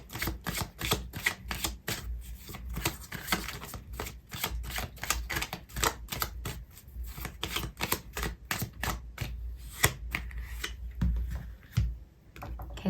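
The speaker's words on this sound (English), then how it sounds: "Okay, so I'm going to pull out another card for you" Tarot cards being shuffled and drawn, a dense run of crisp, rapid card flicks and snaps close up, fairly quiet, with brief pauses near the end.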